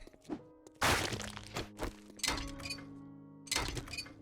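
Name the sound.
wrenching apart an object for parts in the video game 7 Days to Die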